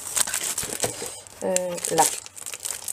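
Craft paper haul package being opened, with crisp crinkling and tearing of paper wrapping close by, under a woman's French speech.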